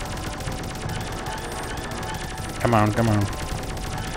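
Gunfire from the player's weapon in the video game Rodina, a short burst of rapid shots over a steady engine drone, with a voice talking nearby.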